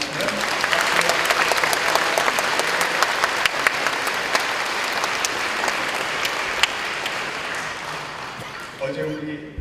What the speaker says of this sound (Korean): 우리 한번 일어났을 때 박수로 환영하겠습니다